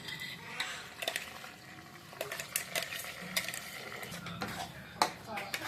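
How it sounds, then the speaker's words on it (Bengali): A utensil stirs and scrapes a tomato, onion, chilli and cashew paste frying in a pan for chicken changezi, giving quiet irregular clinks and scrapes over a soft, low sizzle. "টমেটো পেঁয়াজ লঙ্কা আর কাজু পেস্টটা করেছিল, গ্রাইন্ড করেছিল, এটা এখন দিয়ে দিচ্ছে। এখন এই মশলাটা পুরো ভাজা ভাজা হবে ভালো করে একদম।"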